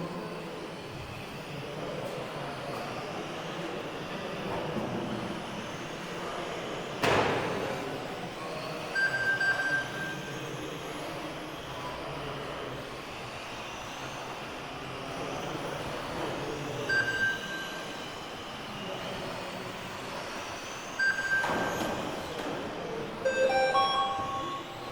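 Racing cars lap a circuit at a DMCRC Frontie Equinox Cup round, with a pink and silver leader rounding the last corner onto the main straight; engine noise drones steadily throughout, with louder passes swelling near seven, twenty-one and twenty-four seconds.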